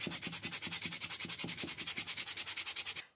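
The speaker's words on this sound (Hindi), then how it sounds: "तो रेगमाल से आपका सीमेंट का पॉट बहुत आराम से साफ़ हो जाएगा।" Sandpaper scrubbing a cement plant pot, fast rhythmic back-and-forth rasps, loud and close, about eight strokes per second, with no voices.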